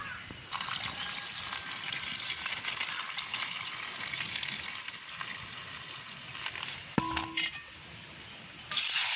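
Water pours steadily into a container with a continuous rushing splash, interrupted briefly by a clink near the end.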